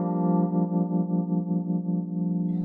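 A sustained, distorted electronic tone with a rhythmic pulsing wobble, washed in springy reverb, plays alone and fairly loud.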